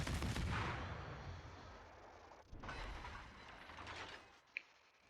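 Torpedoes strike an enemy ship in World of Warships, heavy booming impacts that open loud and fade into rumbling, a second swell midway and a sharp short crack near the end.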